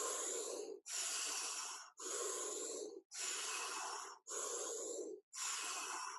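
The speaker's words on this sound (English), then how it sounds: "keep the breath strong and full" Strong, full breathing during a breathwork exercise, six long forceful breaths in a steady rhythm with short gaps between them, heard close and alone.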